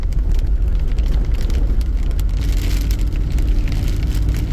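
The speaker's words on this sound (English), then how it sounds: "that rain has certainly well and truly set in" Steady rain falls around a camping spot on a hike between Bluff Hut and Zeka Spur, a close, continuous patter and hiss over a low rumbling background, with no speech.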